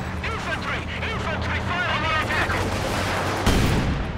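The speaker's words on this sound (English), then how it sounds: "Katusha's fire." Katyusha rocket artillery in the World War II strategy game Company of Heroes 2, Stalingrad mission, launches a dense, continuous barrage of whooshing rockets and rumbling impacts, with a sharper loud burst near the end, while a voice talks over it.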